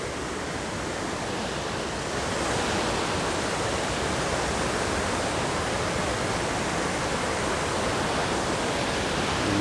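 A river flowing near the Ezharakund Waterfalls in the Paithalmala valley of North Kerala makes a loud, constant rushing roar that fills everything without pause.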